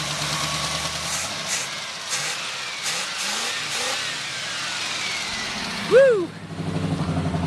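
An old G-Body car's 260 V8 engine revs in a steady, loud rumble for several seconds, with a short cheer from a voice near the end.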